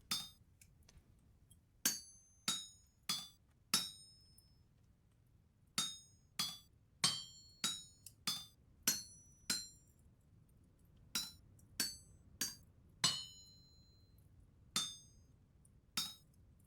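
Hammer strikes ring on metal while forging a chisel in the video game Vintage Story, about twenty sharp clinking blows in uneven bursts with short pauses, clear and alone against quiet background.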